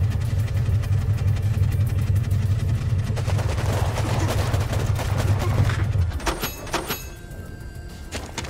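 Grenade fire in the Warpips battle game: dense mid-level bursts of gunfire and blasts over a steady engine rumble, with the engine noise cutting out near the end as the firing thins.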